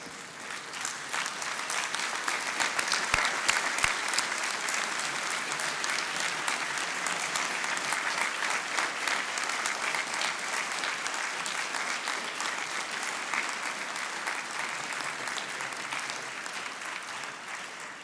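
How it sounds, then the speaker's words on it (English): An audience at a 2016 conferring ceremony for an electrical and electronic engineering department gives a long, steady round of applause, a full hall of clapping that holds at an even level for about eighteen seconds. "give those families now a well-deserved applause"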